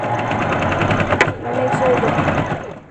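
A sewing machine stitches plush dog fabric in a steady, close, continuous whirring run lasting the whole moment, with a voice talking over it.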